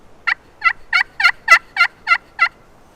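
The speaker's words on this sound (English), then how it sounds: "we'll just make some light yelps on our call" Eight evenly spaced yelps from a turkey call, clear and close, in a steady rhythm with a quiet background.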